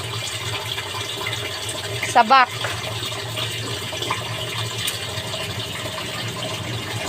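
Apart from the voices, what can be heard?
water pouring for watering plants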